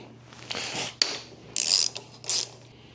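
A wrench ratchets on a tight bolt on a Harley Davidson Sportster, a few separate bursts of clicking pawl and creaking metal with short pauses between them, close and moderately loud.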